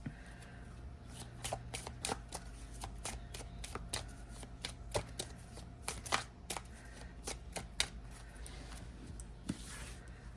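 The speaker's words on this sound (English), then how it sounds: "I'm not good at shuffling like small decks when there's hardly any cards" Quiet, close riffling of a few thin oracle cards from a small deck, quick irregular flicks and soft snaps repeating over ten seconds with no talking.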